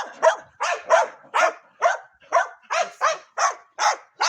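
Small puppies bark repeatedly in a steady, rapid series of about a dozen high, sharp yaps, close and fairly loud.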